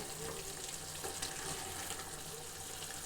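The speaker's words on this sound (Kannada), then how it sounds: "ಇದು ಚೆನ್ನಾಗಿ ಕುದೀತಾ ಇದೆ" Steady bubbling and simmering of a pot of chicken curry on the stove, a continuous wet gurgle with faint crackles, no voices.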